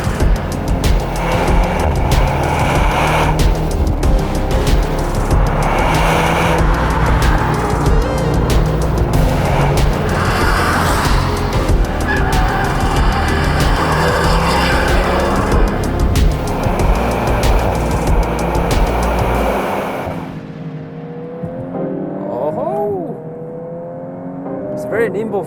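A 2022 VW Golf R driven hard around High Plains Raceway, loud engine revving with rising and falling pitch as it accelerates and shifts, under and alongside talk, then quieter at the end.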